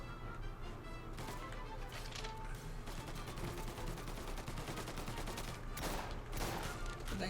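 Video game gunfire, rapid bursts of shots rattling continuously over a low steady background, fairly faint throughout.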